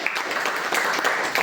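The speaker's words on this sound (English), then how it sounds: "Give him a big round of applause." An audience at a school presentation gives a round of applause, with a short, moderately loud burst of mixed clapping throughout.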